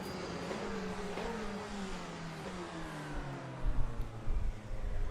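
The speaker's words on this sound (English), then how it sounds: "Oh, the engines sound good." Race car engines in the Le Mans Ultimate racing game drone steadily with shifting pitch as cars run in a pack, a faint sustained mechanical hum that swells briefly louder near the end, with no talk.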